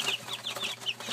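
Chickens cluck in a rapid, repeated rhythm, close and steady, over a noisy background.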